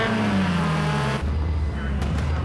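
Race car engines in Project Cars 2 racing at Lydden Hill, a loud engine note gliding downward before shifting to a lower steady drone, with another car buzzing past briefly.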